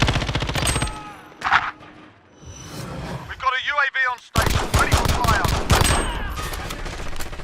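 Gunfire from the Call of Duty Modern Warfare video game: loud bursts of shots and rapid automatic fire mixed with battlefield effects and game voices, punctuated by a sharp explosive crack partway through.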